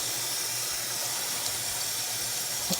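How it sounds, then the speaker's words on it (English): Tap water pours steadily into a pot for cooking rice, a close, even broadband hiss and splash lasting the whole few seconds with no talking. "fill this with the water"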